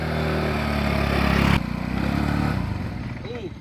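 A motorcycle engine runs loud and close with a steady rumble that shifts in pitch midway, and people talk over it.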